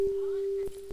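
A steady pure test tone played from two speakers, heard at a spot of constructive interference where it comes through louder, holding one unbroken pitch for the whole second with a few faint clicks and brief background noise.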